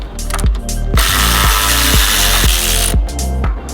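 Ratchet loosening 13 mm nuts on the strut top of an Audi RS3 during a lowering spring install, loud close rapid clicking of the pawl in a steady rhythm with no talk.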